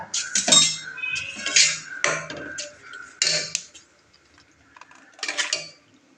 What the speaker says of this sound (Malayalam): നല്ലപോലെ മിക്സ് ചെയ്ത് കൊടുക്കുക